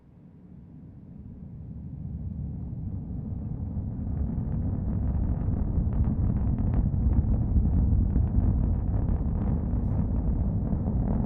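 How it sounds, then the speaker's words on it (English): A SpaceX Falcon 9 rocket's nine Merlin engines roar during launch from Florida, a distant, deep rumble that swells over several seconds and then holds as a steady, crackling roar. "Let's listen to the roar of these 9 Merlin engines."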